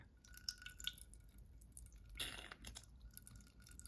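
Water drips and trickles softly while a Platinum 3776 fountain pen nib is flushed clean. Faint, irregular little drops and splashes are heard close up, with a brief burst of running water partway through.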